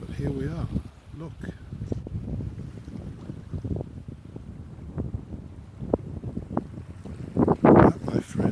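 Seaside harbour town with gusting wind buffeting the microphone and boats nearby, someone talking over the steady outdoor ambience.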